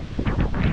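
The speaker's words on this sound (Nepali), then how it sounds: "हावा अझै पनि त्यस्तै लगाइरहेछ।" Strong gusty wind blows in the aftermath of a cyclone on the Gold Coast, Queensland, buffeting the microphone in loud, rushing surges over a short moment.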